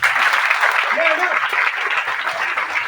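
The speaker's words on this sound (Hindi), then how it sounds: "एक बार ताली बजाओ इसके लिए।" A seminar audience in Faridabad claps for housewives, making a continuous, dense burst of applause that fills the whole moment. A voice briefly rises over the clapping.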